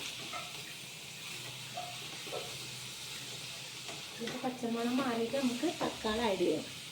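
Ginger, garlic and green chili sizzle steadily in hot oil in a pan as they are mixed in for a prawn biryani, a soft continuous hiss with a voice talking over the later part.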